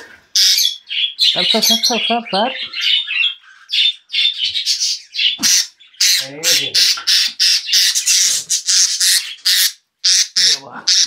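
Pet budgerigars squawk and chatter in a cage, loud and close, in dense bursts of harsh calls with a few short pauses and no talk.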